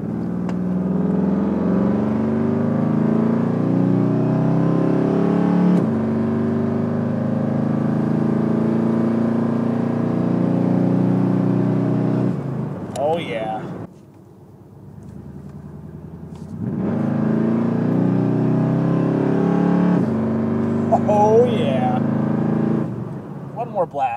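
A Mercury Grand Marquis runs at wide-open throttle, a loud, steady engine roar heard from inside that cuts off briefly midway and then builds again, with people's voices and exclamations breaking in.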